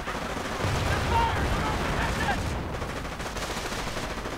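Rifle and Ranger squads firing in a World War II strategy video game, a dense continuous crackle of distant small-arms fire and rumbling battle noise, without speech.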